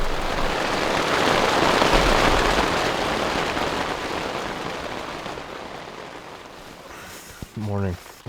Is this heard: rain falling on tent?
yes